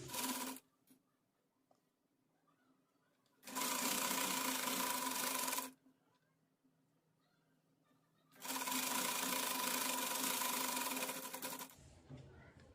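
A sewing machine stitching the corner of a frock lining runs in two bursts of steady, fast mechanical whirring, each about two seconds long, separated by quiet handling of the cloth.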